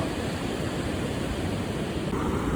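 Foamy ocean waves wash onto a beach in a steady broadband hiss of surf, continuous and fairly close, with no voices.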